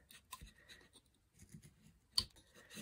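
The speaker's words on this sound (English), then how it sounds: "Make a stop cut and then push that right into your stop cut." Knife cutting into wood while carving a wood spirit face, short faint scraping and slicing strokes in separate bursts with a sharper cut near the end, quiet and close with no talking.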